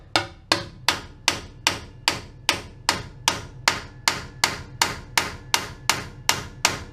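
Hammer blows drive a rear axle bearing and seal into place, about fifteen sharp metallic strikes in a steady, even rhythm, close and clear with no talk.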